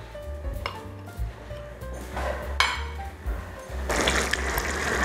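A cream and cheese sauce cooks in a pan, with bursts of bubbling sizzle and liquid stirring alongside clinks of a utensil against the pan, growing into a louder steady sizzle toward the end, with no voices.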